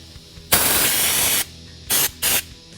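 An air spray gun spraying LizardSkin insulation at 70 PSI on a Mustang: a sustained pressurized hiss of about a second, followed by two short bursts, loud and close with quiet pauses between.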